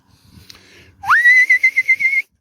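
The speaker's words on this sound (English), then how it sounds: "Hopefully they will follow suit now and learn to come to the whistle." A person whistles to call cattle on a farm: a short rising whistle that sustains into a loud, pulsing tone lasting about a second, clear and close with no talk.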